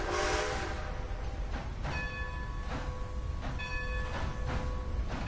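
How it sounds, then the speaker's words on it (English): A steam train reversing in Red Dead Redemption 2: a steady low rumble of the engine and cars rolling, with several tonal whistle or brake squeal tones sounding in short repeated bursts, moderately quiet. "You need to see the grade? Alright, we'll back the train up. I think you can reverse the train."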